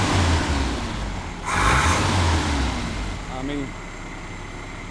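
A Mazda B2000 pickup's 2.2L engine with a Weber carburetor runs at a low idle, revving up briefly and settling back, while someone talks over it.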